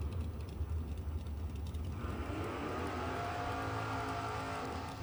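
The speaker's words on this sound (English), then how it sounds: "Brian in the Camaro, 594. Marky in the Mustang, 747." A Camaro and a Mustang launch off the line at a drag racing meet, engines rumbling low before surging into a rising, rasping roar over a ratcheting mechanical clatter, loud and sustained.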